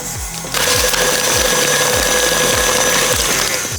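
Electric mixer beating butter, cream cheese and sugar in a bowl, starting as a quieter whir, then a loud, steady high whine with a rhythmic thumping beat as the beaters turn.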